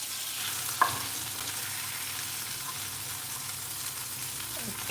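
Shrimp fry in a wok with a steady, close hiss of sizzling oil and one sharp clack of a utensil early on.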